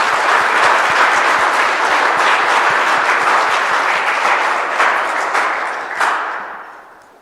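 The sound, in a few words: congregation applause during Christmas Eve Mass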